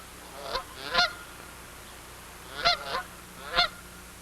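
Dusky Canada geese honk in a series of about five loud, nasal calls, spaced irregularly over a few seconds against a quiet outdoor background.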